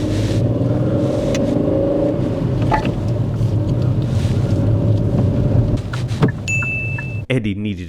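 A manual car rumbles during a driving lesson, a loud steady engine drone inside the cabin that drops off near the end, with voices talking over it and a brief clink.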